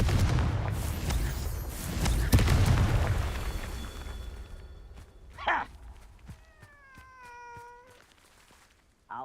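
A Confringo blasting curse explodes in the Hogwarts Legacy video game, a loud rumbling burst that swells and fades over several seconds, followed by a cat meowing in a quieter moment.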